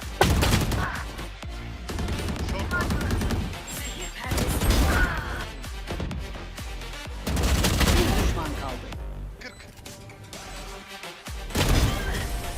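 Rapid weapon fire in Valorant with Viper, loud bursts and repeated shots in dense clusters, with a player talking over the action.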